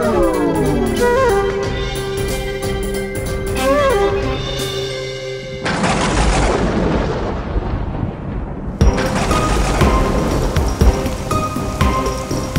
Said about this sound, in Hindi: अरे अरे अरे, बारिश शुरू हो गई।